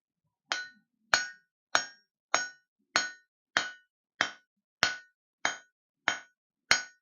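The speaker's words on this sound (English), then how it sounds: "I'll probably run under the power hammer just to bring it down and give it a little bit of a distant taper." Power hammer forging a steel deba bocho knife blade, eleven sharp ringing strikes at a steady, even rhythm with short decays between, loud and close with no talk.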